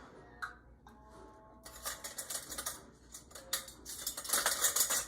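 A metal lid and band are set onto a glass canning jar of BBQ beans, giving a few faint clinks followed by a stretch of light metallic scraping and rattling as the band is turned.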